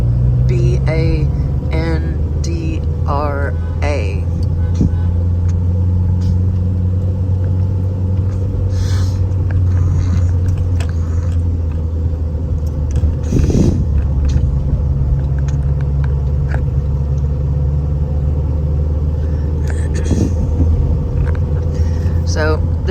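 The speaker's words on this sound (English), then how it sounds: "The traffic slows down." Dense road traffic in Bandra, Mumbai, a steady low engine rumble with passing vehicles and occasional brake hiss, continuous and close throughout, with people talking over it.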